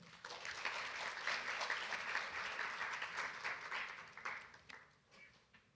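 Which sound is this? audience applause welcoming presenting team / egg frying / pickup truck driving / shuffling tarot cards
audience applause welcoming presenting team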